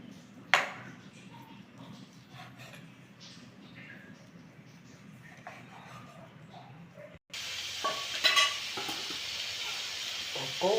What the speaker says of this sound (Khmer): កូរគ្រឿង